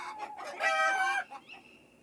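A flurry of loud chicken calls, squawking and cackling together close by, with a higher crowing-like cry rising near the middle before fading.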